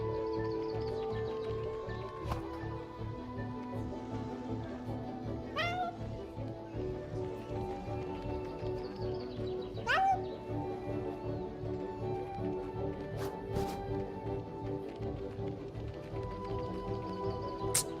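A cat in the Memories Retold video game meows a few times at intervals, the cries fairly clear over a low, constant background hum.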